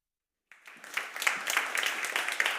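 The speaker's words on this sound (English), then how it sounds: "Thank you for your applause." Applause at a conference on sustainable food systems in Central Europe, starting after a brief silence and building into a steady, moderately quiet round of clapping from the audience.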